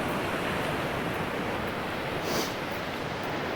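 Ocean surf breaking by a fishing pier, a steady broadband wash of waves with a slight swell near the end, constant and fairly loud with no voices.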